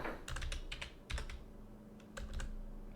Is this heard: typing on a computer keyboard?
yes